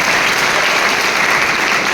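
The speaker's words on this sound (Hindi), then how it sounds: "तो आप इन सब के लिए एक बार जोरदार ताली ब्रजवासी लगाएं" A large audience at a Bhagwat Katha religious discourse claps loudly and steadily, a dense even wash of applause with no pause.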